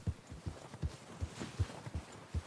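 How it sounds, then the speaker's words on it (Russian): Horse hooves clip-clop at a steady walking rhythm in the Red Dead Redemption video game, about eight soft, distinct thuds, fairly close, with no talk. "Так, мы на коне, где мы быстрее ускакиваем?"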